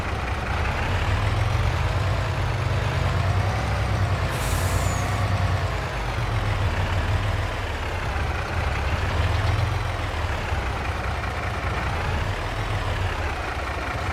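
A truck engine in the video game Farming Simulator 22 idles with a steady low rumble, close and continuous, with a brief air-brake hiss near the middle.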